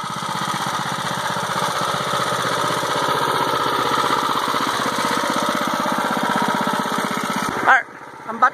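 A tractor powered by a Predator 212 small engine runs with a loud, steady, rapidly pulsing drone close by, then cuts off abruptly near the end.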